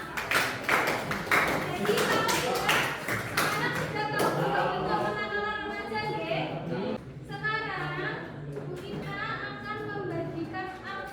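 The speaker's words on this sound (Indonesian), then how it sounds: "tepuk tangan untuk kita semua." A small group in a school coaching session claps together for a few seconds, a quick burst of sharp hand claps that gives way to talking voices.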